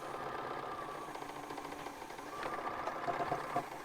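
A sewing machine stitches steadily across fabric, a close, even mechanical whir with a fast rhythmic motor hum that holds for a few seconds with no talking.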